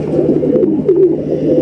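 A pigeon coos softly nearby, a low rolling burble that swells briefly in the middle over a steady faint background hum.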